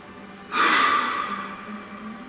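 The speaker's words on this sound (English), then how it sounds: "Just breathe." A person takes one deep, audible breath, a strong airy inhale rising suddenly after a quiet start and then slowly easing off, close and alone.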